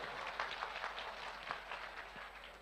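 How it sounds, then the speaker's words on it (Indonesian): Audience applause from a crowd at an Indonesian religious lecture, a soft continuous patter of many hands, distant and fairly faint, holding steady for a few seconds. "berikan tepuk tangan dulu untuk teman-teman semuanya"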